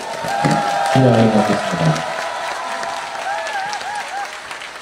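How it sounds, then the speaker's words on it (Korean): A crowd at a political lecture gives a short burst of applause and cheering, loud at first and then fading while a voice speaks over it. "박수 한번 더 치고"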